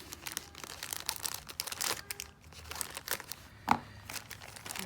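A cross-stitch craft kit package is opened by hand, its plastic wrapping crinkling and crackling close up in irregular bursts with a sharper tearing rustle near the end.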